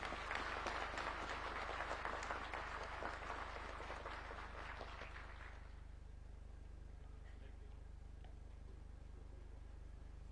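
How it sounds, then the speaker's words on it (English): Audience applause at a graduation ceremony of the National Defence University in Nakuru County, Kenya: distant, steady clapping from a crowd for about six seconds over a low hum, then fading to a few scattered claps. "Let us give them a round of applause."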